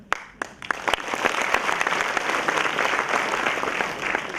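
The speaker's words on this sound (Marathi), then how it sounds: "ज्यांचं नाव घेतलं की टाळ्या पडतात" An audience bursts into applause for police officer Krishna Prakash at a motivational event with MPSC toppers, starting with a few separate claps and swelling into steady, full clapping from a crowd.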